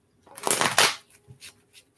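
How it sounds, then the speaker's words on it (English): Deck of tarot cards shuffled close by: one quick riffling burst of flapping cards, then a few soft taps as the deck settles, with no speech over it. "So I'm gonna shuffle the cards."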